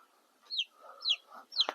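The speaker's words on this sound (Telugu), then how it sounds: "ఒక కోడి పిల్ల బయటకు వచ్చేసింది" Country chickens and chicks on a farm: three high, quick chick peeps over soft low clucking, close and fairly quiet, with no talking.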